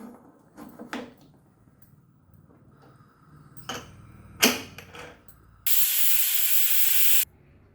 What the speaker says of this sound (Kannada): ಈಗ ಇದನ್ನು ನಾನು ಕುಕ್ಕರ್ ಮುಚ್ಚಿ ಒಂದು ವಿಸಲ್ ಹಾಕಿಸ್ತಾ ಇದ್ದೀನಿ